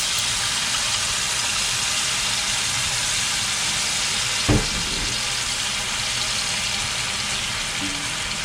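Ginger pork sizzles and simmers in sauce in a pan, a steady loud bubbling hiss with one brief clunk partway through, no voices.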